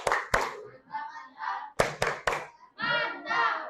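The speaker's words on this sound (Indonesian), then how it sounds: "Kita kasih tepuk mantap dulu untuk semua kelompok." Children in a classroom perform a rhythmic 'tepuk mantap' group clap in sharp bursts of synchronized claps, with chanting voices between and after the clap patterns.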